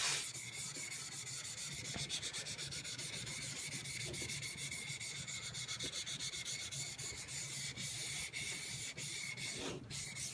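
Steady, close scraping and rubbing as a chisel back is flattened on a sharpening stone, a continuous gritty hiss with regular back-and-forth strokes and no talking.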